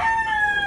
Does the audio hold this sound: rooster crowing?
yes